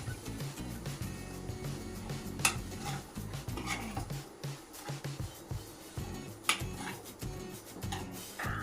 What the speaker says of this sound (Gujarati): લાલ મરચાંનો પાવડર ગરમ મસાલો અને સ્વાદ પ્રમાણે મીઠું નાખીને બધા મસાલા બટાકા જોડે બરાબર મિક્સ કરી લઈશું